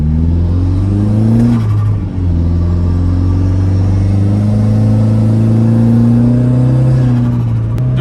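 A car engine pulls hard under full throttle, a loud droning roar climbing steadily in pitch, dropping briefly at a shift from second into third gear, then climbing again, close and continuous.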